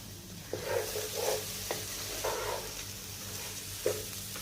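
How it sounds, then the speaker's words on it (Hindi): Quiet, repeated scraping strokes of a spoon stirring a milk powder mixture with crushed almonds and melon seeds in a pan, with a faint sizzle underneath and occasional soft clicks. "अच्छी तरह इसको मिक्स कर दिए।"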